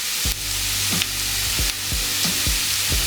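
Onions frying in a pan as a breakfast dish cooks, a steady close sizzle with a few soft stirring scrapes about every half second, and no voices.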